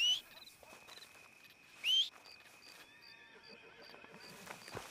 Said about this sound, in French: on peut appeler le cheval de là, et ils arrivent d'en face directement